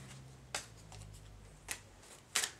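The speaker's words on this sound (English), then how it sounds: "Shuffle up the white deck." A white deck of playing cards shuffled for a board game setup, heard as a few soft, quiet riffles and snaps spaced apart against faint room hum.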